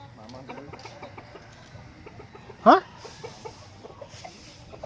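A single loud, rising cluck-like squawk from a chicken stands out over low background murmur and faint voices.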